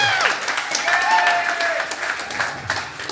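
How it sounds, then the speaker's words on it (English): Applause from a live audience greeting Dr. Stephen Aizenstat at an event, a steady wash of clapping with a whistle-like tone and voices faintly underneath. "everybody give a big round of applause to Dr."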